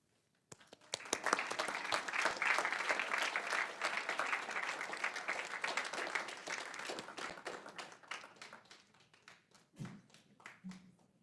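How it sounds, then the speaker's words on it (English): A board meeting audience claps for a preschool academy, steady applause rising after a brief silence and then thinning out, with a few scattered claps and a low thump near the end. "Let's give our Preschool Academy at Granada West another round of applause"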